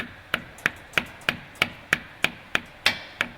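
Rubber mallet tapping a seal into place on a KMT NEOLine waterjet pump: eleven crisp, evenly spaced taps at a steady rhythm, close and clear with no talking.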